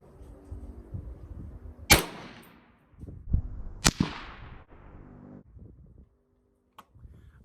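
Two sharp, loud 17 HMR rifle shots fired at a target outdoors, each a crisp crack with a short decaying tail, about two seconds apart, followed by quieter handling noises and brief pauses.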